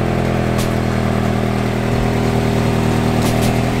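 A Nissan 240SX engine idles steadily and close by, a constant low hum with no change in pitch, and a few faint ticks on top.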